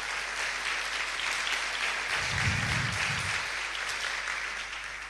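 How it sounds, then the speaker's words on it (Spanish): Steady audience applause for a speaker at a talk on internet and retail commerce, an even wash of clapping lasting several seconds, with a low rumble midway. "Desde luego, darte un aplauso."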